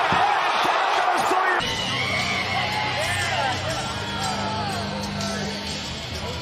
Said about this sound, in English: you could hear the crowd when they saw that punch